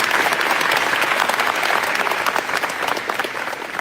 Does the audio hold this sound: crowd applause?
yes